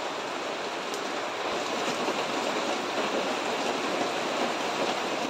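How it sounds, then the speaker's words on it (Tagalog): Heavy rain pours down in a steady, dense hiss with no break, falling outdoors while work on an oil change for a Bajaj RE auto-rickshaw is on hold. "antayin muna natin huminto ang ulan bago natin pagpatuloy yung ating pag-change oil"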